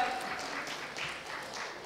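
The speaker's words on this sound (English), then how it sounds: "A round of applause for Mr. Aloke Majumder" Audience applause welcoming a panelist onto the dais at a corporate digital-enterprise panel discussion, a faint, steady wash of clapping from a seated crowd that holds evenly throughout.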